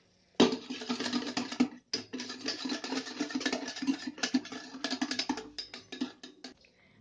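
Lassi is whisked vigorously in a bowl, a continuous rapid scraping rattle with a brief pause partway through, close and fairly loud.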